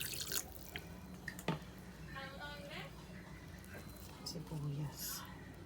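Water pours and splashes into a cooking pot close by for sinigang na baboy, a pork soup, with dripping and sloshing sounds amid faint background noise.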